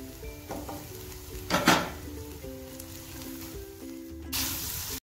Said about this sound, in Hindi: ये मैंने मसाले को 30 सेकंड के लिए भून लिया है।